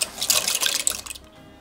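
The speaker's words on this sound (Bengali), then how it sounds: "তো এখন আমি পাস্তাটাও দিয়ে দিচ্ছি" Dry pasta tumbles into a saucepan of water with a brief close rattle and splash, then the sound drops away to a quiet background within a second or so.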